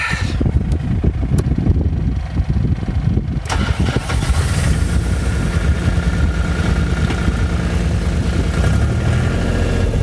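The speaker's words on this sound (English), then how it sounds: "I got this skid steer with the tracks" A tracked skid steer loader's engine runs at a steady, rough drone, with an irregular clattering in the first few seconds before the motor settles into a continuous loud rumble.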